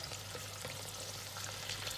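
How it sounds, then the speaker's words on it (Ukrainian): Steady oily sizzle of onions and carrots frying in a pan, with faint stirring clinks, continuous and close. "І кидаємо цибулю і морку До нашої, до нашої зажарки."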